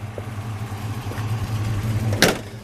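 A 1965 Chevrolet Nova Hardtop custom idles with a low, steady exhaust rumble, fairly close, ending with a brief burst of noise.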